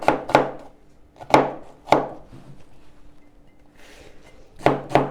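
Sharp knife chops through onions on a board for a meat pie, sounding as distinct separate chops, two near the start, two more around the middle and a final pair, with quiet pauses between.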